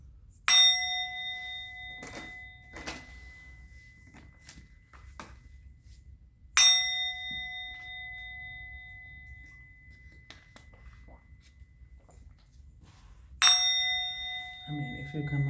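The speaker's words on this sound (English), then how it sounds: "I'm going to ring the bell." A metal bell struck three times, each strike a bright clear ring that decays slowly over several seconds, loud and close in a quiet room.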